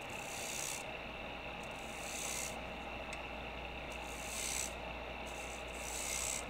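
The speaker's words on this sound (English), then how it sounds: "So now I'll continue scoring from that last reference line I had." Steady dry rasping and rubbing of a turning tool scoring wood on a lathe at a woodturning event, a continuous close scrape that swells and eases in several passes with no talk.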